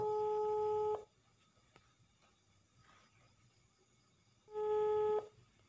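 Ringback tones play over a phone speaker while an unanswered call rings out: two loud, steady beeps about four seconds apart, with quiet line hiss between them.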